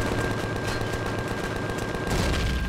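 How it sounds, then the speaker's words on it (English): Auto turrets in Empyrion Galactic Survival fire a rapid, continuous stream of loud shots, a dense rattling barrage that holds steady and grows slightly heavier near the end. "Come on there, auto turrets. You're gonna take care of everyone in there."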